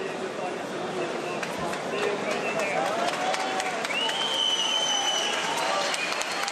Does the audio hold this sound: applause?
yes